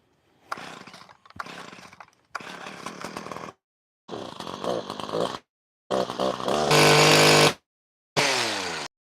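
A small gas-powered hedge trimmer engine is pulled over in several short, sputtering bursts, then catches and revs loudly at close range, with no talking.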